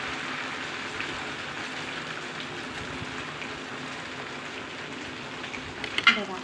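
Fasting-day dosa batter poured from a small bowl onto a hot dosa tawa gives a soft, even sizzling hiss that holds steady throughout, with a faint clink near the end.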